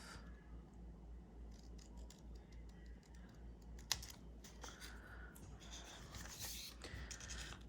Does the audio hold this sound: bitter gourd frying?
no